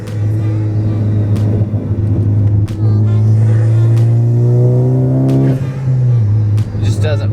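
Heard from inside a Ford Focus ST with upgraded chassis bracing, a steady low engine and road drone fills the cabin, swelling in pitch midway, while a person talks over it.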